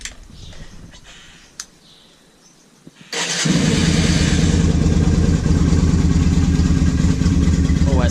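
Yamaha Virago motorcycle engine cranking and catching after a few seconds of quiet handling, then running loud and steady with a throbbing idle and revving up close.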